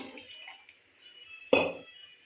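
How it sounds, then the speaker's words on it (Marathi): Water goes into a cooking pot for mung dal: a sudden splash and clatter about halfway through, then a short rush of liquid that fades, after a quiet stretch with faint kitchen clinks. "अजून मी टाकणार आहे पाणी साधारणतः मी एक लिटर पाणी घेतलेलं आहे शिजवायला"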